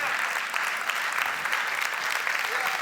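A conference audience claps in a continuous wash of applause, loud and even across the whole stretch, with no voices over it.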